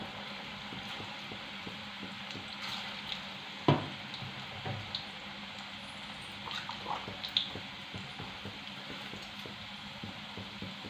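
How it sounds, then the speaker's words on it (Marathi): Moong dal bhaji deep-frying in hot oil, a steady soft sizzle and bubbling throughout with occasional small pops and drips, moderately close, no voices. "आता ही सुद्धा बॅच आपण सेम पद्धतीने तळून घेणार आहे"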